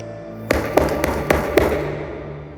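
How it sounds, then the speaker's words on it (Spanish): Five hollow knocks on a wooden door at night in an inn room, evenly spaced and fairly close, ringing slightly over a low background hum. "un sonido hueco resonó en mi puerta"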